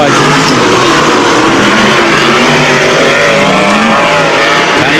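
Sprintcars race around Archerfield Speedway at the 1996 National Sprintcar Championship, with loud, dense, continuous engine roar and shifting revs from several cars at once, close and overwhelming throughout.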